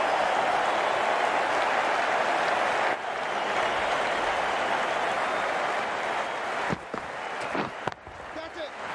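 A large, excited cricket crowd roars with steady broad cheering and applause through an India versus Sri Lanka one-day international, loud and continuous, with a few sharper bursts near the end.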